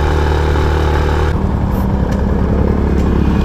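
Motorcycles labor up a steep mountain road near Paete, Laguna, their engines droning loudly and continuously as they climb, with a shift in pitch partway through and no voices over them.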